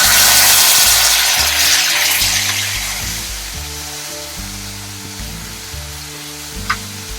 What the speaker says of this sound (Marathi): ही पेस्ट चांगली भाजून घ्यायची आपण, म्हणजे त्याचा कच्चापणा निघून जातो